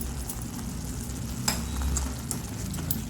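Plain unsoured curd being stirred into a simmering paneer gravy in a pan, giving a steady close sizzle and bubbling with a few soft scraping strokes, no voices.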